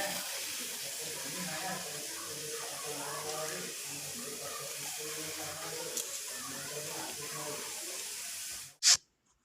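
Safflower-leaf greens hit a hot pan of salted, garam-masala-spiced oil, giving a loud, steady hissing sizzle that runs unbroken until it stops abruptly with a short knock.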